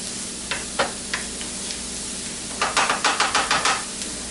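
Onions frying in a pan for a keto scalloped radish dish: a steady soft sizzle with a few scattered taps, then a quick run of rhythmic stirring knocks near the end.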